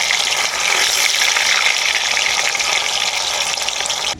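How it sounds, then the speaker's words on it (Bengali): Chhana (cottage cheese) sweets frying in hot oil: a steady, bright, continuous sizzle at close range with no talking, holding even throughout before cutting off. "ছানার এই মিষ্টিগুলোকে আমি হালকা লাল লাল করে ভেজে নিলাম"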